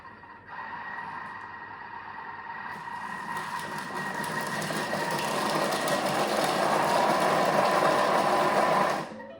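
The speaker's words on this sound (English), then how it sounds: "we're going to put the lid back on with the measuring cup, and we're going to give these onions a bit of a chop" A Thermomix whirs as its blade chops onions under the lid, a steady high motor drone rising after a brief start and cutting off sharply at the end.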